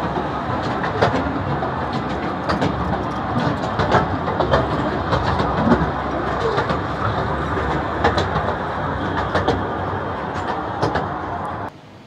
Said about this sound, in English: I also saw the train operating in the jetty, coming back from the observatory center to the ticket center.